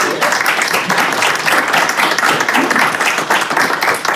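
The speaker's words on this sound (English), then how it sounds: "let's give her a big round of applause" A council meeting audience gives a sustained round of applause for a school administrator from the Texas Association of School Libraries, a dense, even wash of many hands clapping steadily throughout.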